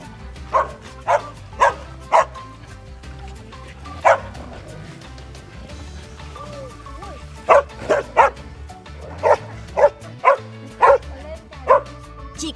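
Dogs bark in sharp bursts, a few in quick succession, then a pause and another run of barks, fairly close over light background noise.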